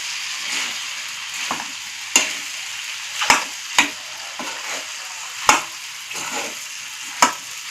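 Boiled potato and egg masala is stirred and sautéed in a pan over low heat, a soft continuous frying hiss broken by several sharp scrapes and knocks of the spoon against the pan.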